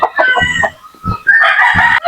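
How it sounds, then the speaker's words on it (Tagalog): Pet chicks, young chickens, call in loud, bright bursts: a few short chirps, a brief pause, then a longer, stronger run of chirping close by, with no talking. "Pakita ko lang sa inyo yung mga alaga nating mga sisiw"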